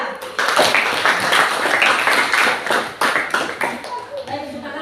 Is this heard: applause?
yes